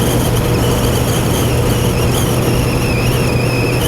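A Suzuki Hayabusa GSX1300R 25th Anniversary motorcycle cruises at about 4,000 rpm at the legal speed limit, its steady, low engine drone blended into a constant loud rush of wind noise throughout.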